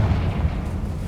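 Confringo blasting spell going off in Hogwarts Legacy, a deep rumbling explosion with a heavy low-end roar that rolls steadily for about a second, loud and close with no voices.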